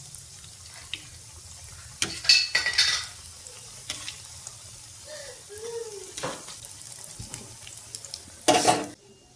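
Leaves frying in a pan over a medium flame, a soft steady sizzle broken by a few louder bursts of stirring and scraping, fairly close with no talk.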